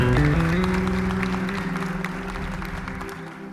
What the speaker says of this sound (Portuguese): salva de palmas em louvor a esse Deus